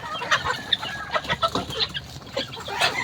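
Three-month-old pullets on a farm cluck and chatter in a busy, overlapping flock. Their short calls come in quick, irregular bursts close by, with no talking.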